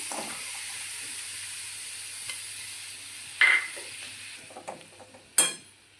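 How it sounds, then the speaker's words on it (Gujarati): A bowl of jaggery is stirred in a kadai while making a peanut sweet, giving a faint, soft hiss broken by a couple of sharp spoon scrapes against the pan. "હવે એક વાટકી આપણે ગોળ એક કડાઈમાં ઉમેરી દઈશું"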